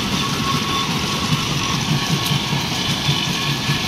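Steady, continuous rumble of a stone crusher breaking rock into fine gravel, with a low droning engine tone, loud and unbroken throughout.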